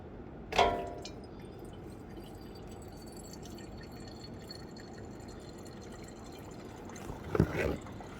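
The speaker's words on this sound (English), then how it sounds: "You can see here I'm just draining some of the fuel." Diesel fuel drains from a Ford Powerstroke fuel filter through a plastic cap into a jar, heard as two brief liquid splashes and drips, one near the start and one near the end, with quiet background between.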